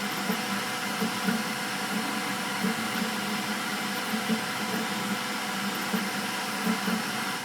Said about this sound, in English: This printer is not quiet. Now, it is not really as a result of the printing, and it's more to do with the fans.